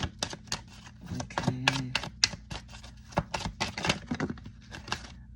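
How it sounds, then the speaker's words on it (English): A deck of tarot cards is shuffled by hand, a quick run of crisp riffling snaps and papery clicks, close and fairly quiet, with a brief spoken word early on. "I'll do two more shuffles before I get on."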